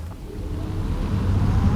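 A Renault Mégane E-Tech electric car makes a launch start, a low, building hum and rush of road and wind noise that grows steadily louder over a couple of seconds, with no voices.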